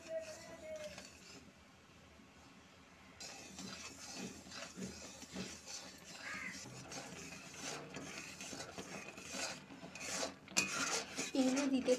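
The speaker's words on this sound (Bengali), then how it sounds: "অল্প অল্প চালের গুঁড়ো দেব আর নাড়তে থাকবো" Rice flour stirred in a pan for Bengali puli pitha, a spoon scraping and rasping against the metal in uneven strokes, close up, with occasional clinks and no talking.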